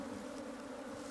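Bees buzzing steadily at an open beehive during inspection, a dense continuous hum close by with no talk over it.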